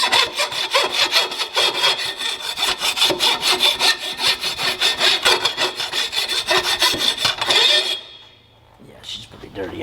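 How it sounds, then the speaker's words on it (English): Threaded rod scraped back and forth like a file inside a dirty PTO shaft on an Alamo SHD 88 flail mower, a loud, close, rhythmic rasping in quick even strokes for about eight seconds, then a pause. "I'm gonna use this threaded rod like a file."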